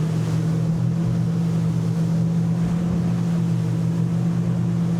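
Tesoro T50 inboard motorboat powering up at sea, a loud steady engine drone with strong low hum, rushing water and wind noise throughout, no talking.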